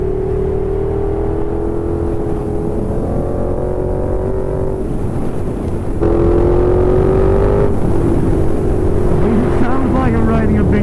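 KTM 1290 Super Duke R EVO motorcycle engine running steadily while riding on a cold day, a loud continuous drone with shifting pitch and a surge partway through, wind rushing throughout.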